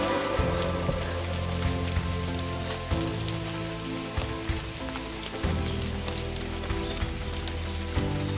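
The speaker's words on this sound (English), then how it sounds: "We caught a little rain along the way and we were trying to hide somewhere for a moment." Light rain patters on a walking trail on Sao Miguel in the Azores, a steady close hiss of drops with irregular heavier taps, and no talking.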